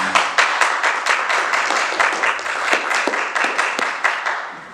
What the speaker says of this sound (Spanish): recibamos con un gran aplauso a la maestra para que se emocione un poco